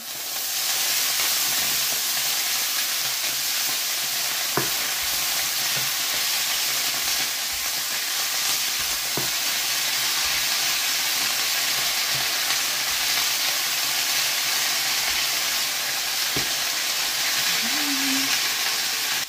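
Kangkong (water spinach) hits a hot pan for adobong kangkong, setting off a loud, steady sizzle that fills the whole stretch, with a few sharp clanks of a utensil scattered through it and no talking.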